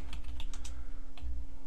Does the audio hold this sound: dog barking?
no